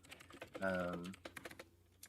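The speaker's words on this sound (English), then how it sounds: "You're going to hear typing, sorry guys." Clicky computer keyboard typing in a quiet room, a quick irregular run of keystrokes close to the microphone, briefly overlapped by a voice in the middle.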